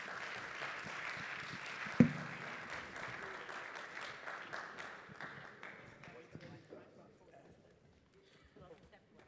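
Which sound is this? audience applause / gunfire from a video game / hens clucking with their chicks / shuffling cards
audience applause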